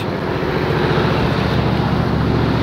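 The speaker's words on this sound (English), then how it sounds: "You can hear the engine purring there." A continuous low engine drone hums steadily at close range, with no speech and no change in pitch.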